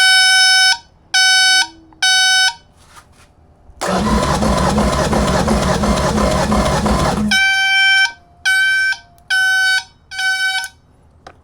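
A Yamaha outboard motor cranks over steadily for about three and a half seconds during a compression test. Loud, evenly spaced electronic warning beeps come before and after the cranking, with no talk.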